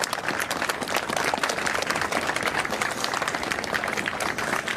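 Dense, sustained applause from a crowd of people along a road honoring a fallen Capitol Police officer, many hands clapping continuously and fairly loudly with no talk over it.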